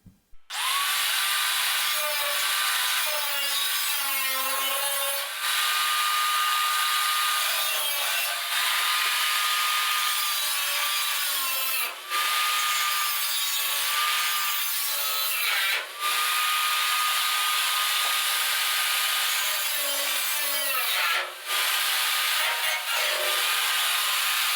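A power tool cuts into the corners of a metal fish table frame, a loud continuous whine with wavering pitch that runs for about twenty-five seconds, broken only by a few brief dips, with no talking.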